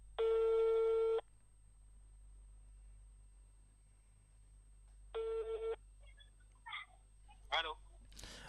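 An outgoing telephone call: a loud, close ringback tone sounds, then a long quiet gap, then a second shorter ring tone, followed by brief faint sounds as the line picks up.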